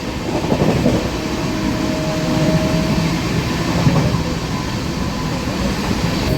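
Ratnachal Express running at top speed on new LHB coaches between Vijayawada and Visakhapatnam, a steady close rumble and rattle of the carriage with a brief faint whine, continuous throughout with no talking.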